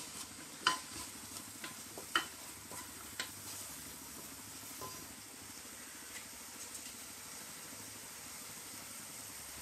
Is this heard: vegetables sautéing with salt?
yes